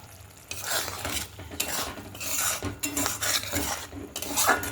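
Masala for a paneer curry being stirred and fried in a pan: utensil scrapes and clinks against metal in an irregular rhythm over a steady soft sizzle, close and fairly loud, with no talking.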